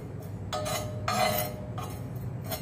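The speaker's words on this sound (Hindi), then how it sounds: "और चम्मच जो है आपने हल्का हल्का चलाते रहना।" A metal spoon clinks and scrapes against a hot griddle while spices for shikanji masala powder are dry-roasted, several light, separate taps spaced out over a soft steady background hiss.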